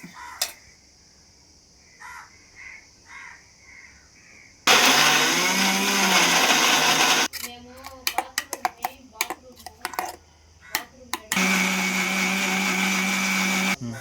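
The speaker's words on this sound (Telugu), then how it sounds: "ఈ పేస్ట్ని మెత్తంగా పట్టుకోవాలి." Mixer grinder blending onion, tomatoes, ginger, garlic, coriander and mint leaves into a curry paste: two loud, steady whirring bursts of a few seconds each, with a pause of clicks and bird-like calls in between.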